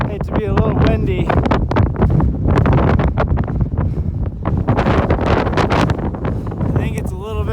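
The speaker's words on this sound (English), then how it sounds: "I think it's a little bit windy." Steady gusty wind buffets the microphone throughout, a loud rushing roar with scattered thumps, while people talk over it, on a mountain snowfield in the Weminuche Wilderness.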